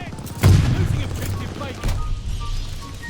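A grenade explodes in the shooter game Call of Duty: Vanguard with a heavy, close boom, followed by a second blast and ongoing gunfire crackle in the background.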